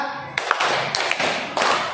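A classroom of students claps in unison during a rhythm game, sounding several sharp group claps in bursts with a quick pattern, fairly close and loud.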